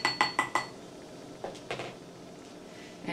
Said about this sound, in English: Give it a little mix with one of your spoons.